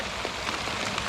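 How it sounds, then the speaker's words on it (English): Heavy rain pours down at a fishing tournament, a steady dense wash of hiss with a few louder drop hits near the end, filling the short stretch without any talk. "it's pouring down rain."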